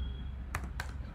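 Two quick keystrokes on a computer keyboard, entering a deploy command for an Alexa skill, sounding as separate crisp clicks close by over a low background hum.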